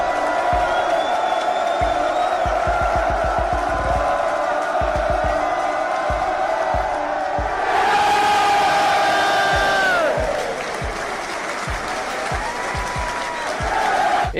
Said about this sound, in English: This crowd go absolutely wild after this young fan scores this goal.